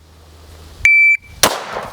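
An electronic shot timer sounds a single sharp start beep lasting about a third of a second during a pistol drill, and a loud, close gunshot cracks a moment later.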